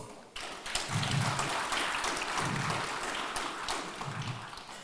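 Sustained applause from an audience at a national SME awards ceremony, a steady dense wash of clapping that carries on loudly through the whole stretch.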